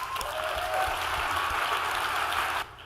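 A conference keynote audience at DrupalCon Seattle 2019 applauds steadily for a few seconds, a dense wash of clapping that cuts off abruptly near the end.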